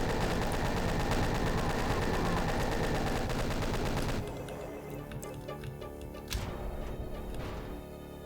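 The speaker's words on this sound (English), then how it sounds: "we're gonna chain gun all these zombie men down" Rapid, sustained chaingun fire in Doom 2 blasts zombiemen in a dense loud burst for about four seconds, then stops, leaving scattered game noises and a couple of sharp impacts.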